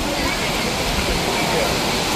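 An Oregon waterfall pours in a dense, constant roar of rushing water, close and loud, with faint voices from a crowd of visitors mixed in.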